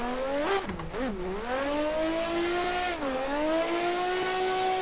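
The engine of a YASHIO Factory S15 car revs in a racing video game at Irwindale, loud and close, its pitch rising and falling through gear changes before it holds a steady climbing whine.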